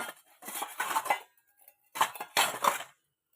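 Dishes and a small bowl handled while serving a homemade sweet, two bursts of clattering plates and clinking utensils close by, separated by a short quiet gap.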